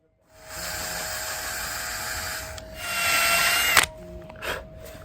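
A power drill whirs steadily at close range while drilling holes in a teak toe rail on a Hallberg-Rassy 312 sailboat, its high whine rising briefly as it bites in, then stopping with a few short bursts.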